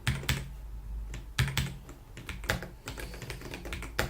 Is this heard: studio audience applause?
no